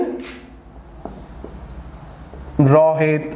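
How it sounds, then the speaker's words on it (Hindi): Chalk or pen scratching out a sentence during a grammar lesson, soft and continuous with a few light taps, before a voice begins speaking near the end. "ये सेंटेंस हम लिख रहे हैं, रोहित"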